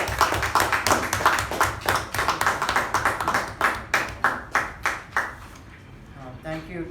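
Members at a Toastmasters club meeting welcome their president with applause. The clapping starts as a dense burst, thins into a few slow, distinct claps and then fades, and a voice speaks at the end.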